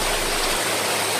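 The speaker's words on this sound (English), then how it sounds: "you can't hear my voice because of this waterfall sound here" A waterfall at Jeju, South Korea roars as a loud, steady broadband rush of falling water, close and unbroken for the whole moment.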